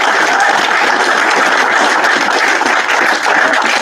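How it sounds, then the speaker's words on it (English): At a board meeting, a room full of people gives a coach a sustained round of applause, dense, steady clapping that holds at full strength for several seconds before cutting off. "I want to introduce a big round of applause for Coach Pat Colby"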